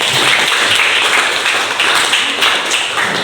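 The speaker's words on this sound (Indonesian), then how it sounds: "Tepuk tangan itu." A classroom of students clapping together in a steady, dense burst of applause, loud and close, with no talk over it.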